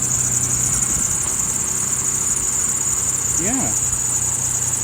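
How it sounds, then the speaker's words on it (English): A 2003 Chevy Trailblazer engine idling, a steady low running drone under a high insect-like whine, with a brief voice and a short rising chirp partway through. "But as you can hear, it starts and runs well."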